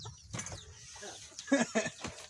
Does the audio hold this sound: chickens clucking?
yes